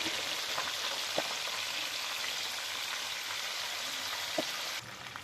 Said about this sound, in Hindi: चिकन विंग्स रेडी हैं, उन्हें भी अब हम लोग फ्राई कर लेते हैं इस तरह